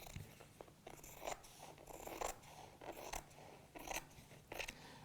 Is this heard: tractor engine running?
no